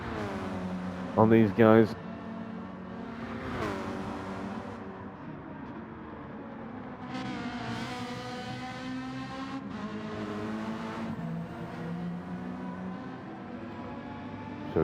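Race cars in a sim racing game, VW among them, braking through a hairpin and into a chicane, engines rising and falling in pitch with a brief loud burst near the start, under steady commentary.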